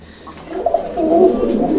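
Golla pigeons coo close by, a soft low throaty warble rising and rolling in a couple of bursts across a short stretch, clear and without talk.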